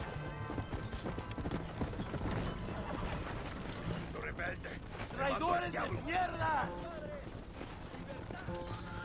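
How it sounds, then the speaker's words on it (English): Hooves clip-clop from a horse being mounted and ridden in the Western game Red Dead Redemption, with other game sounds around and someone talking over the steady rhythm throughout. "I'm getting on my horse right now, actually, so I don't lose the wagon."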